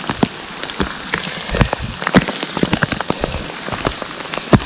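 Heavy rain pours during a trek on the Shrikhand Mahadev mountain pilgrimage, loud and close, with sharp drops hitting a nearby surface in irregular bursts over a dense wash, no talking.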